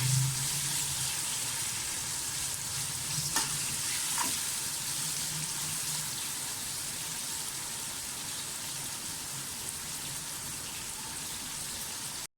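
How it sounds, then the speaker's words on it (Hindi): Onions frying golden in a pan for chicken tikka biryani, giving a continuous soft sizzle and crackle with a couple of faint clicks. "इनको गोल्डन फ्राई करें प्याज को"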